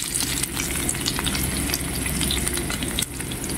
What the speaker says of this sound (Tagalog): I-fry na natin yung dry prawns first.